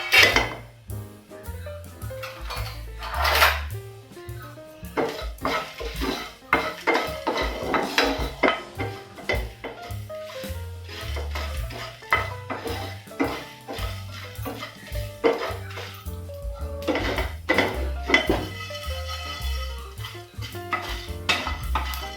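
Whole peppercorns, dried chillies, coriander and cumin seeds dry-roast in a pan, stirred with a utensil that clinks and scrapes against the metal in an irregular rhythm, close and alone.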